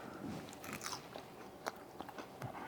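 A crispy, caramelized cheese edge of sourdough bread topped with fig jam is bitten into, giving several sharp, close crunches followed by brief chewing.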